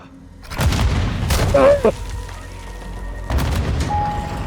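Grenade explosions in Modern Warfare 2 (2022), heard as a few loud, sharp booms spread over several seconds, mixed with game noise and voices.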